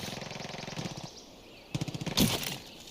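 Gunfire in the Far Cry 5 shooter, at the Elk Jaw Lodge outpost in the Whitetail Mountains: a sharp burst of rapid shots near the end, following a quieter stretch of repeating pulses.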